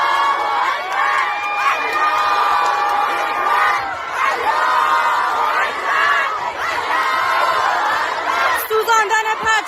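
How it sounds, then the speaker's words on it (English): Iranian university students cheering and clapping as a flag burns, a loud crowd of overlapping shouts, whoops and applause that swells and continues throughout, with excited voices rising above the roar. "The clapping and cheering is coming from the Iranian university students who are clapping and cheering"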